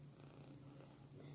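Soft, continuous purring of a female kitten, very quiet and close, a steady low rumble with faint background hiss.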